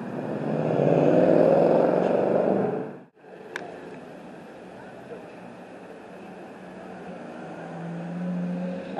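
Mercedes car accelerating past on a Monaco street, a loud roaring engine sweep that cuts off abruptly, followed by quieter street noise and a second car approaching faintly at the end.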